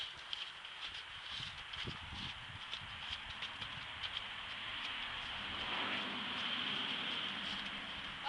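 Horse hooves clip-clopping on the ground during ground work in a training session, a series of soft, irregular footfalls close by over a steady outdoor hiss.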